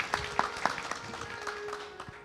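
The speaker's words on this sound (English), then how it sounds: "Please, another big round of applause for them," Scattered, fairly faint hand claps from a temple audience honoring singers at a Mandir Gyaan Yagna gathering, coming in a loose, steady rhythm with a faint sustained tone behind them.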